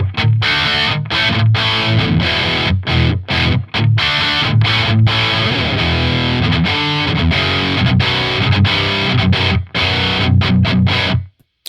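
A Grassroots Les Paul-style electric guitar on the bridge pickup through an amp's blue channel gives a saturated rock tone: loud, continuous distorted chords with brief choppy stops, played alone.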